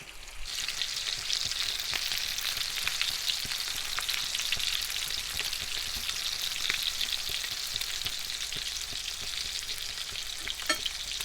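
Constant loud sizzling of beef steak frying in a pan, an even crackling hiss with occasional pops, close up and without speech.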